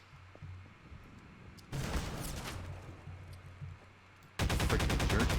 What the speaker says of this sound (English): the SMG is like probably one of the loudest things in Half-Life 2